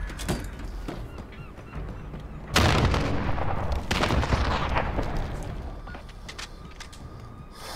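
Gunfire rattles through a Call of Duty Modern Warfare match, a sharp loud burst breaking in midway over a busy backdrop of shots and battle noise, then trailing into scattered further reports.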